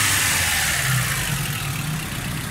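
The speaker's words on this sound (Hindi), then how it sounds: "ये गाड़ी स्टार्ट है, बिल्कुल एक्यूरेट परफेक्ट है, बिल्कुल ठीक है, साउंड भी बिल्कुल ठीक है गाड़ी का" A rebuilt Suzuki Cultus EFI car engine fitted with new rings and head valves idles steadily, a close, continuous low-pitched hum with an even rumble and no pauses, running alone without voices.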